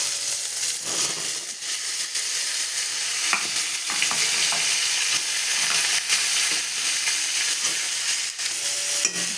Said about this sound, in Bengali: এবার আলু দিয়ে ভেজে নেব